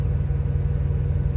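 A ThermoKing auxiliary power unit runs on a semi truck, a steady, loud low-pitched engine drone with an even pulsing throb and no talk.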